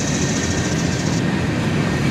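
A southbound CSX manifest freight train led by ES40DC and ES44AC locomotives rumbles past nearby, a loud steady roar of engines and rolling wheels with a faint high whine, no voices.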